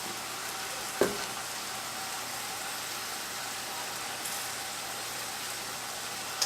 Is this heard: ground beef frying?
yes